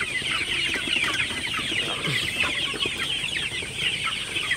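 Sonali chickens on a farm, a dense chorus of many birds clucking and chattering at once, continuous and moderately loud with a steady hiss of the shed behind.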